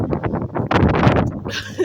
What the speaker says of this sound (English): See how windy it is out here?